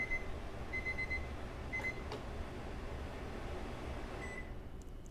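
Kitchen timer beeping over a steady hum of a vent fan during stovetop cooking: short high electronic beeps in brief bursts, a few spaced apart across the clip, clear above the broadband fan noise, no talking.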